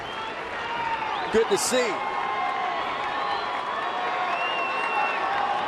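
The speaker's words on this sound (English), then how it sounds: "Crowd here at Petco a little excited" Baseball crowd at Petco Park, a steady roar of cheering and applause from a large stadium audience in San Diego, distant and sustained, with a commentator talking over it.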